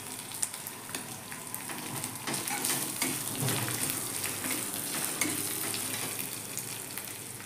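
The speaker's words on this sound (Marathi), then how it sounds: "चांगलं तेलात फ्राय होऊन द्यायची मिरची." Green chillies fry in hot oil with a continuous close crackling sizzle, light stirring audible over the hiss, steady throughout with no talking.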